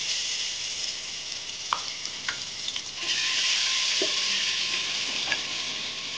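Continuous hissing sizzle of spices tempering in hot oil for a country chicken curry, close by, with a few light clinks of a utensil and no talking.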